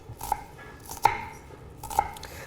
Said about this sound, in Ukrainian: Треба дрібно порізати цибулю і не жаліти.